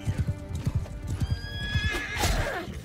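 Horse hooves clip-clop in a rapid galloping rhythm with a whinny, in the medieval combat game Mount & Blade II: Bannerlord, close and loud throughout.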